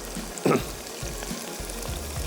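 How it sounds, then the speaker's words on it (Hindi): Garlic ginger paste frying in a karahi with mutton gives a steady low sizzle, with a brief clatter or stir near the start and soft spoon scrapes, close and fairly quiet, no talk. "यहाँ पे मैंने डाला इसमें लहसुन अदरक का पेस्ट"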